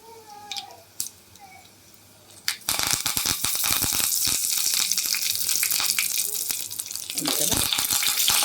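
Dry red chilies and curry leaves dropped into hot tempering oil burst into a loud, continuous crackling sizzle after a quiet start, spitting and popping close up.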